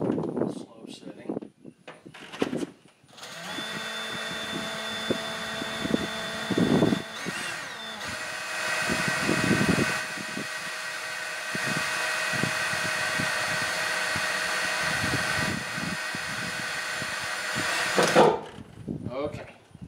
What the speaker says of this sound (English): got my nice DeWalt drill. I'll find the first dimple right here, and I'm going to drill it very carefully, slow setting